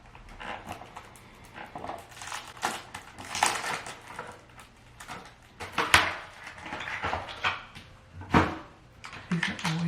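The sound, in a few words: pregnancy test packaging being opened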